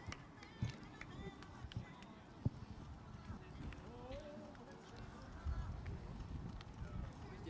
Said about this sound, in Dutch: Een paard wat heel ruim en gemakkelijk door het lijf stapt. En in draf heeft hij het achterbeen er ook goed bij.